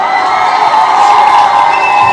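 A large crowd cheering and whooping loudly, a sustained roar of voices with some clapping mixed in.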